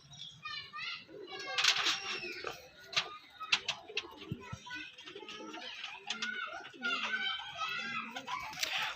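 A male and female pair of banded pigeons at a loft, with cooing and chirping bird calls mixed among children's voices and chatter, moderately near and fairly busy throughout.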